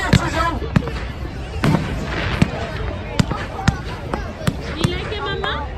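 Bonfire night fireworks explode in sharp, repeated bangs of varying distance across an outdoor display, with people talking and calling out over the crackle between blasts.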